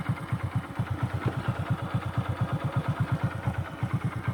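A motorcycle engine idles in neutral, giving a steady, even thumping pulse close by with no one speaking.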